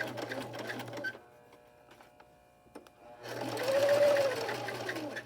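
A sewing machine stitches elastic onto an 18-inch doll's nightgown in two close, steady whirring bursts, separated by a quiet pause with faint handling clicks.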